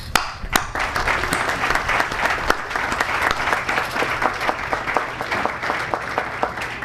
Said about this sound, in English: Please applaud Corporal Billy